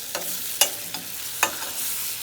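Scallops fry in a pan while being basted with butter. A soft, steady sizzle carries several quick sharp clicks and splashes from the basting, all close up and without speech.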